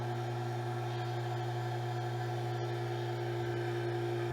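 A vacuum investing machine switched to its investment table setting runs with a steady, loud mechanical hum and drone, continuous and unchanging throughout, with no voices.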